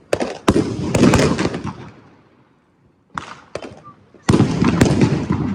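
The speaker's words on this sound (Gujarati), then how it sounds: "એટલે ગાઈસ હું હમણાં ફોડી રહ્યો છું બટરફ્લાય." Butterfly firecrackers set off at a Diwali celebration burst in loud, sharp cracking volleys, fade into a brief lull, then flare up again with fresh crackling bursts nearby.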